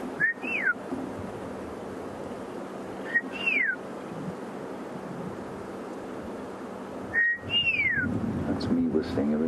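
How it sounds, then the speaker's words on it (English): A person whistles short rising-and-falling notes in three separate bursts, spaced apart, over soft wind and faint background murmur, on a wildlife safari drive. "That's me whistling, everybody."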